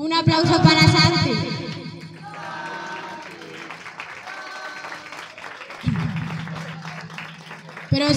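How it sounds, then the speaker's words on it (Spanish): A crowd claps in applause for Santi Honorato of the Peña Opio during the chupinazo opening of the Yecla de Yeltes town festival, a loose, echoing patter that rises between stretches of amplified speech from a host. "un aplauso para Santi."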